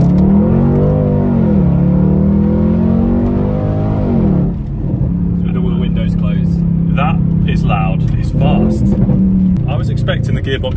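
Jaguar XFR engine heard from inside the closed cabin, rising and falling through a revving pull, then settling into a steady drone with a whine on top, loud and continuous.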